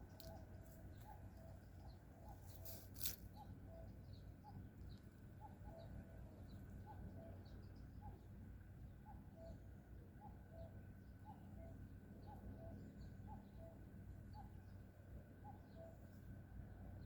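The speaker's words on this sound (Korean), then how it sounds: "또 뻐꾸기 소리가 멀리서 들려오고요" A cuckoo calls over and over in a steady two-note rhythm, faint and distant, against a quiet outdoor hum.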